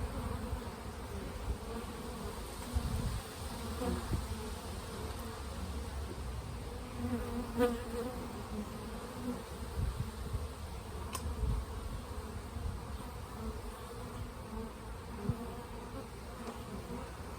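Honey bees buzz steadily around an open hive during an apprentice beekeeper's inspection, a dense droning swarm close by with faint clicks of frames being handled and no talking.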